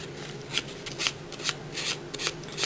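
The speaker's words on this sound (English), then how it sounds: "And then use some wet and dry paper" Wet and dry abrasive paper rubbed over a Mikuni BS38 carburetor part from a Yamaha XS650, smoothing its inner edge; a close, steady scratchy rasp in repeated strokes of about half a second, with no talking.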